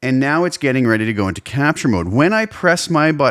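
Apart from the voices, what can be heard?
No everyday noises stand out.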